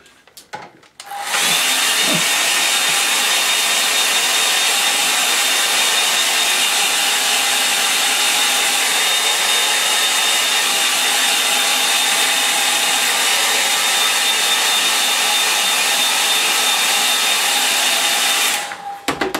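A hair dryer blowing on a watercolour painting switches on and runs as a loud, steady whirring roar for about seventeen seconds, then cuts off, with no talking.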